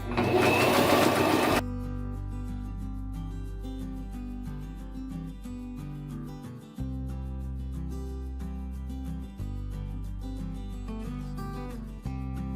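A sewing machine back-stitches a water bottle pouch, running in a rapid, even mechanical whir that pauses and restarts briefly as it reverses direction, following a short burst of louder noise at the start.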